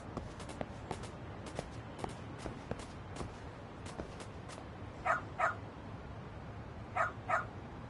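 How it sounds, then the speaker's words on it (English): A dog in the video game Lost Judgment gives two pairs of sharp barks midway and near the end, preceded by a steady run of footsteps over soft background ambience. "Good dog. Very good dog."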